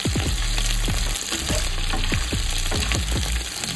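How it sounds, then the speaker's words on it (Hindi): Onions fry with okra in a pan over a medium flame, giving a loud continuous sizzle close by, broken by scraping stirs of a spoon, with no voices. "अब ऑनियंस को हम अच्छे से पकने देंगे, अच्छे से मिक्स कर लें।"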